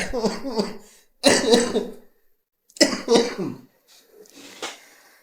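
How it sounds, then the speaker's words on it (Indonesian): A person coughs in several harsh bursts separated by short pauses, close and loud, with a softer cough trailing at the end. "ini saya masih batuk ya. Masih batuk saya ini."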